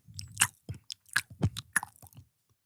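Close, loud chewing with wet smacking and crunchy bites comes in quick irregular bursts, with brief pauses between mouthfuls and no talking.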